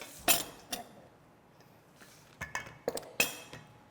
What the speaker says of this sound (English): we're just going to take our spoon and our mixture here